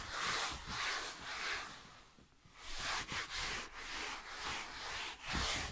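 Wet wipes rubbed over surfaces during household cleaning, continuous close scrubbing swishes in repeated strokes with a brief lull midway, no talking.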